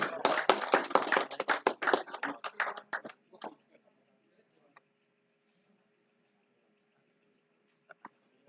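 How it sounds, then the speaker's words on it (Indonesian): An audience at an evening gathering claps to welcome a speaker, a burst of dense, fairly faint applause that thins out and fades after about three seconds, followed by near silence with a couple of stray taps. "Mari kita sambut dengan tepuk tangan semuanya"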